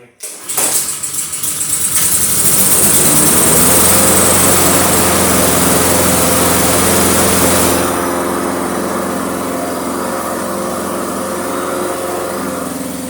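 Small lawn mower engine with a starting problem is choked and pulled, catching after a second and roaring loudly at steady high revs, then dropping to a lower steady running note for the rest.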